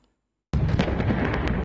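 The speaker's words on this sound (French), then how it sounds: "21 coups de canon pour saluer la mémoire du maréchal Idriss Déby" A single heavy cannon blast from a 21-gun salute for the late Chadian Marshal Idriss Déby bursts in after silence and leaves a loud, sustained rumble.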